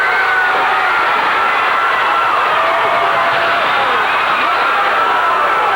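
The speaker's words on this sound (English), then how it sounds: "Very unhappy crowd, and with reason." A wrestling studio crowd in 1987 voices its displeasure, a dense, steady wash of shouting and jeering voices that holds loud and unbroken throughout, with individual yells poking out of the roar.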